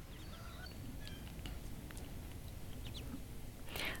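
Motherless ducklings peep in short, high chirps scattered over a steady background hiss, fairly faint, with no voices.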